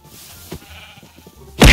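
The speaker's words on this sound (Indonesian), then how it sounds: "Ini banyak domba nih cuy" A Minecraft sheep lets out a single loud, close bleat at the very end, after a quiet stretch of faint background game ambience.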